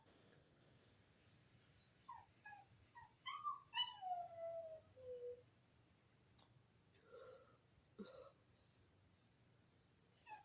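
A puppy whimpers and whines in a series of high, thin cries, some rising into short howl-like notes, fairly faint and with no talking.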